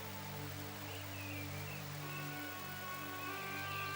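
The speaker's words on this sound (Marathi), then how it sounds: "पावसाने ना काय ग बाई त्रास दिलाय नुसता." Steady rain falls in a continuous, even hiss throughout, with no break and no voices heard.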